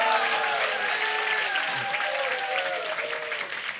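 A church congregation at a testimony service gives sustained, even applause, a thick wash of many hands clapping steadily throughout, with a faint voice briefly audible beneath it.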